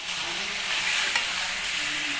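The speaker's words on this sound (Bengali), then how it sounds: "কিছুক্ষণ ফ্রাই হবে" Chicken and potatoes fry in a pan, salted, giving a steady, close hiss and sizzle with faint stirring scrapes, no one speaking.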